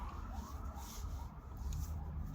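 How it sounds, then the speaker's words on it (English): Ambulance siren wailing far off in the background, faint and steady beneath low rumbling ambient noise, with no one speaking. "That's the ambulance saving somebody."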